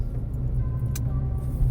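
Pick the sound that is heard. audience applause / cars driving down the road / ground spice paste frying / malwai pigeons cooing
cars driving down the road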